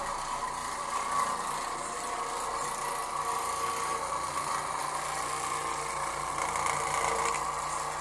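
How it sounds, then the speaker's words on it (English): An Oreck Orbiter floor machine spins a blue microfiber bonnet pad with scrub strips across carpet, giving a steady, even motor hum and whir that holds continuously without a break. "you can see with the Oreck, it's not overly aggressive because it still spins the bonnet"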